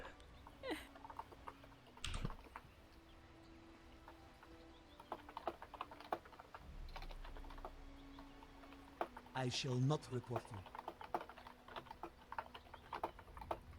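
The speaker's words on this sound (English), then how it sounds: "That's me typing." Quick typing clicks patter from a keyboard in uneven bursts while a person talks briefly over them.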